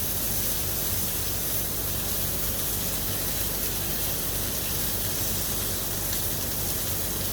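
Sirloin steak held fat-side down with tongs in a hot pan, the fat rendering with a steady, loud, unbroken sizzle that hisses evenly throughout, with no talking.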